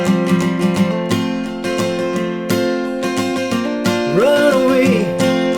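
An acoustic guitar strums the chord changes of a song, moving from the end of the first verse into the start of the second, with steady rhythmic strokes and a brief melodic run near the end, close and alone.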